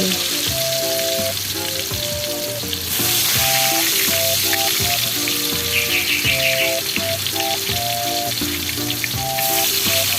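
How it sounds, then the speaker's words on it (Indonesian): Tofu pieces frying in hot oil give a steady, loud sizzle that runs the whole time under a busy layer of background music, with no talking. "Lalu siapkan minyak panas ya bunda. Masukkan tahunya satu persatu."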